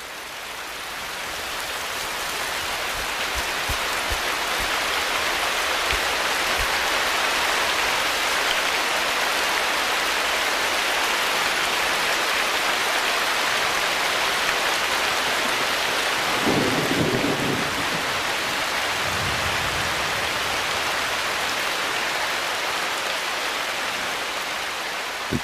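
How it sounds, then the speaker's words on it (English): Heavy tropical rainforest downpour in wild Asia, a loud continuous wash of rain with a few low rumbles of thunder rolling through midway, steady and enveloping throughout. "Regular downpours are essential for life in the forest."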